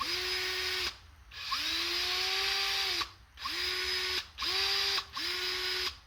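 A repaired Snap-on dual action power tool spins at full speed in several bursts, its whining motor rising in pitch as it spins up, with short gaps between runs, close and fairly loud.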